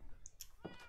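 A cat in Minecraft gives a single short, faint meow, quiet and brief within a calm background.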